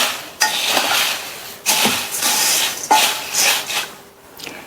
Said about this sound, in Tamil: இந்த பொரிக்கடலை ரெண்டையுமே நல்லா ஒன்றா கலந்து விட்டுருங்க